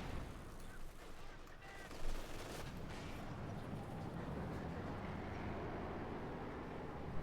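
Rapid gunfire and artillery rattle in Company of Heroes 2 as a German Panther tank trades shots with Soviet forces, a dense continuous battle din with a sharper report near the start, no talk over it.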